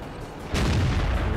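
A T29 heavy tank gun fires in World of Tanks: one loud, sudden boom after a quiet lead-in, its deep rumble hanging on to the end.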